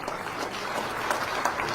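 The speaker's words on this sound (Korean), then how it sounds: "여러분 다시 한번 뜨거운 박수 보내주시기 바랍니다" A short stretch of audience applause at a blockchain technology demonstration event, steady dense clapping at moderate loudness with no voices standing out.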